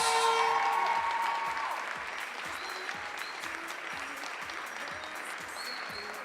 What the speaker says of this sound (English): Big round of applause for Serbia's Maria Malic.